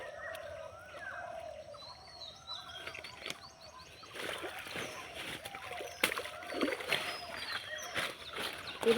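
Fish lifted out of a pond in a net, water splashing and sloshing irregularly, growing busier and louder in the second half, with faint birds in the background.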